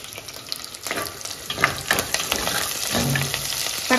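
Garlic and curry leaves sauté in a hot pan, a steady close sizzle with scattered crackles and a brief scrape of stirring partway through, no talking.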